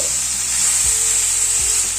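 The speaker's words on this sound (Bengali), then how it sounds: "সবজিটাকে একটুখানি নেড়ে দিচ্ছি। সবজিটা অনেকটাই কিন্তু ভাজা ভাজা মতো হয়ে এসছে" Drumstick vegetables sizzle steadily as they fry in a pan, a constant bright hiss, with two low scraping stirs breaking through about a second apart.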